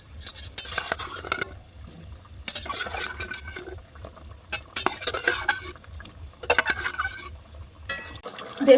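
Shahi paneer gravy is stirred in a pan, with a spoon scraping and clinking in uneven bursts over a low steady bubbling simmer, close and without talk.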